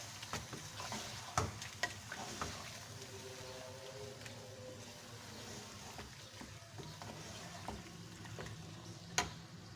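Meat frying in a pan with garlic ginger paste being stirred in, a steady low sizzle with scattered scraping clicks and knocks of the spoon, no talking.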